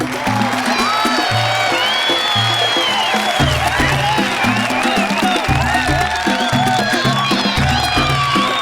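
An audience applauds Senegal's delegation at a COVID-19 network certificate ceremony. The clapping and crowd noise run steadily and loud throughout, with music or tonal sounds mixed underneath.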